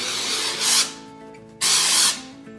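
A spray can hisses onto a small drywall repair patch in two loud, close bursts, the second longer than the first, separated by a brief pause.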